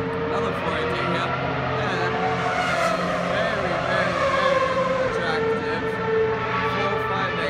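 Formula One race cars at a Ferrari event rush past loudly with rising and falling engine whines, a steady roar under crowd chatter and nearby talking throughout.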